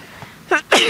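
One person sneezes loudly at close range, a short sharp burst after a quick indrawn breath, in a quiet room during a stretching session.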